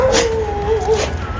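Damini, a pet dog, gives a short high-pitched yelping bark at close range, a brief whining cry with no talk over it.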